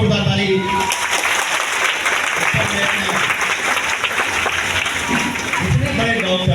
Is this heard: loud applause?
yes